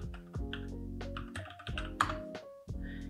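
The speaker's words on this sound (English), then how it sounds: "We can type the standard password because this is a blank instance." Password being typed at a computer keyboard to log into a blank Mainsail OS instance over SSH, a few close key taps and clicks heard over a steady low electronic hum.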